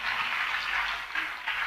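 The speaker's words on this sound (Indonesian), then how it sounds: "Tepuk tangan untuk orang hebat ini," Applause from an audience at an Indonesian stage event honoring a religious teacher, a steady wash of clapping lasting under two seconds with no distinct individual claps standing out.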